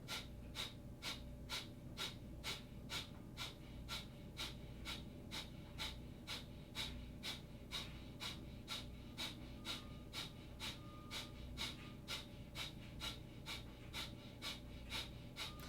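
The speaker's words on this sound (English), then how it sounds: "keeping with that breath of fire" Breath of fire during a yoga class: rapid, rhythmic, forceful nasal exhalations at roughly two per second, close and steady throughout, with no talking.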